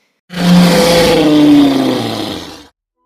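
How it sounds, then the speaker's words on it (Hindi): A loud dragon roar booms from a hidden cave behind a waterfall in a children's fairytale. It is one long, rough, growling blast that swells quickly, holds strong and then fades out into silence. "अचानक उन्हें झरने के पीछे से तेज दहाड़ सुनाई दी।"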